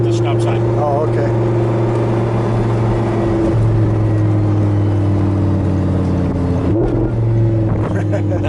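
An Audi R8 engine drones loudly from inside the cabin, its steady tone shifting pitch midway as revs change, then a brief rise near the end; voices talk over it.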